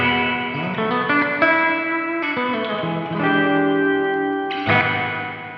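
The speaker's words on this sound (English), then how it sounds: "I'm gonna move over to the plate reverb." Sustained electric guitar chords through the plate reverb setting of a Donner Verb pedal, a continuous wash of ringing tones with chord changes blurring into a big spacious room sound, close and steady.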